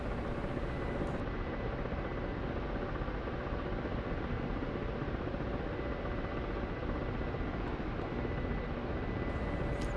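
A Black Shark attack helicopter in the DCS flight simulator drones steadily with a dense, unbroken rotor and engine roar, constant in loudness throughout with no voices.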